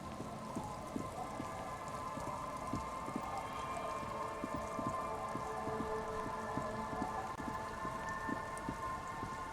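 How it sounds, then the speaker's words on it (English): Steady rain falls in the video game Disco Elysium, a constant even patter with scattered soft drips over a low ambient hum, continuous and alone with no talking. "It's getting late, and it's raining."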